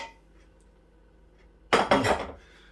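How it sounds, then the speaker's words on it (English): Pork ramen being served into a bowl, a quiet stretch followed by two close, bright clattering clinks of dishes and utensils, short and fairly loud, no talking. "it's time to serve it all up into the bowl"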